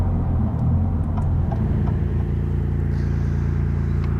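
A Maserati MC20 driven hard down an open road, its engine a steady, loud drone with a constant low rumble and wind roar, holding a smooth, sustained note from start to finish.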